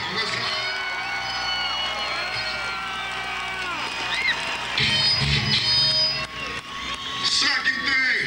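A large concert crowd at an outdoor heavy metal show cheers, whoops and applauds continuously, a dense roar of many voices that swells louder near the end.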